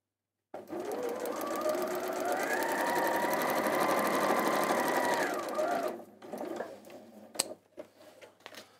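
A sewing machine stitches fabric along a marked seam line, running steadily and loudly for about five seconds before stopping, followed by a few faint handling clicks.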